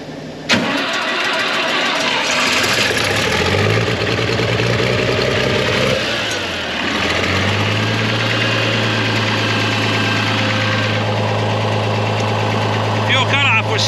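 A farm tractor that had trouble starting, with a stuck fuel cutoff, cranks and catches, then settles into a loud, steady idle with a low even hum nearby.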